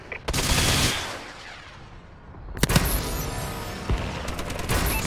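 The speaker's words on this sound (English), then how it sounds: "Friendly missile strikes incoming." Friendly missile strikes in a first-person shooter game land as loud booming explosions: one big blast rumbles and fades, then another heavy impact is followed by crackling bursts and sharp pops.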